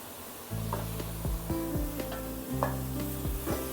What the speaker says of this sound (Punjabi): ਇਹ ਘਿਓ ਪਾ ਕੇ ਇਹਦੇ ਵਿੱਚ ਹੀ ਆਪਾਂ ਇਹ ਜਿਹੜਾ ਪੇਠਾ ਕੱਦੂਕਸ਼ ਕੀਤਾ ਹੈ ਇਹ ਸਾਰਾ ਇਹਦੇ ਵਿੱਚ ਪਾ ਦਿਆਂਗੇ